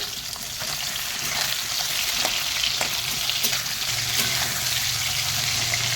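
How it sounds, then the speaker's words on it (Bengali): Nadosh fish coated in mustard paste fries in hot oil with a steady, close sizzle and crackle that holds for the whole stretch, with a faint low rumble joining partway through. "আমার ন্যাদস মাছগুলো ভাজা হয়ে গেছে"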